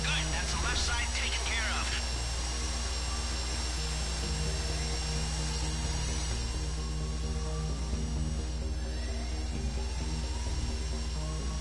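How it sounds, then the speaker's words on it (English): A drill bit grinds steadily in a GTA 5 Online heist on PS4, a continuous high whine over a low engine-like drone, while a player talks over it. "So just very lightly push the drill bit into it."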